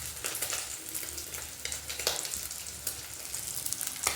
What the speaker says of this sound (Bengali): ছোটো মাছগুলো ভাজছি